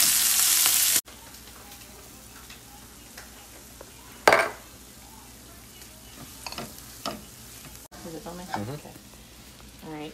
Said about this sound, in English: this is the pistachio Brussels sprout mixture in the vegan-made bacon grease